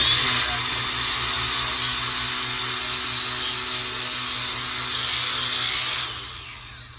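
An angle grinder fitted with a diamond polishing pad smooths an edge, giving a steady, loud, high whirring whine that holds for several seconds and then eases off at the end.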